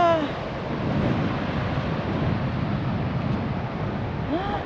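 Broadband wind rushes steadily across an open Korean shoreline at Taean during low tide with sand blowing, a constant roar filling the clip with brief faint voices near the start and end.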